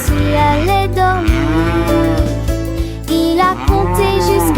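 A cow moos loudly and at length, a series of long, drawn-out bellowing calls close by, with musical accompaniment underneath.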